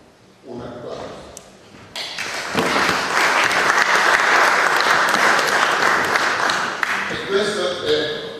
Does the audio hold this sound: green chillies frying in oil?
no